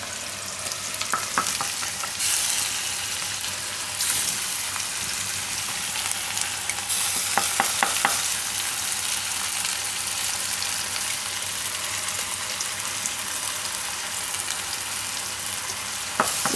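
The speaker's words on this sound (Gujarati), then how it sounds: "હવે આપણે આ આદુ મરચાં ને લસણ એ નાખી દેવું." Ginger, green chillies and garlic fry in a pan for a Gujarati paneer and corn curry, giving a loud, constant hissing sizzle with a few faint clinks and no voices.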